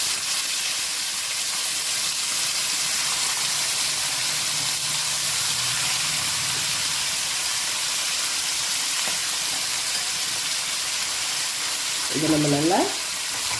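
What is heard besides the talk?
marinated mutton pieces frying in a pan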